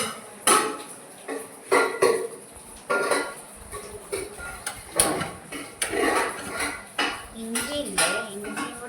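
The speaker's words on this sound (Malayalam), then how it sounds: "ചട്ടി എടുപ്പല് വെച്ച് കൊടുക്കാം അല്ലേ" A clay cooking pot set down on a kitchen stove while prawn curry is being made: a run of sharp clattering knocks and clinks of cookware, close and fairly loud, with faint voices murmuring in between.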